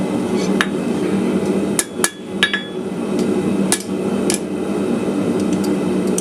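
A hammer planishes a cold forged metal icicle with a few sharp, ringing strikes spaced irregularly over the seconds, heard close against a steady background hum.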